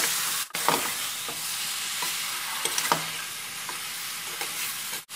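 Mutton and masala stirred and fried in a pan, a steady broadband sizzle with scraping spoon strokes spaced through it and a few sharper knocks, close and fairly loud, no voices.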